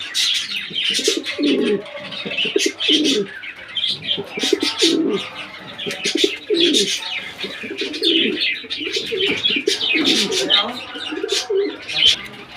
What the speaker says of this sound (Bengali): খুব সুন্দর একটা চেতা ড্যানিশ কবুতর